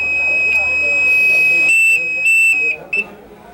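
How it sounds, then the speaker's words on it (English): A firefighter's PASS distress alarm shrills at a 1993 fire department open house, a loud, piercing high tone sustained, then stepping up in pitch in repeated pulses before cutting off, with background voices faint beneath. "I'm going to demonstrate the alarm for you. It's quite loud, but it helps us locate a firefighter in trouble."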